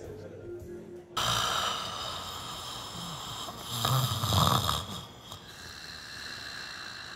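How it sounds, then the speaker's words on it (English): A woman snores loudly with rough, rasping breaths that swell to a heavy snort-like peak midway, close and prominent after a quiet start. "She always snores louder when she drinks."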